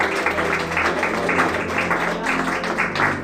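A church congregation clapping hands in praise, a continuous rhythmic patter of many hands at moderate distance, with faint voices beneath.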